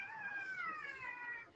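A cat gives a single drawn-out meow, clear and close though fairly quiet, with a slightly falling pitch, alone without talk.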